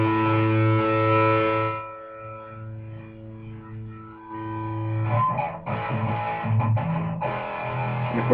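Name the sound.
Schecter Solo 6 Spitfire guitar through Peavey 6505+112 lead channel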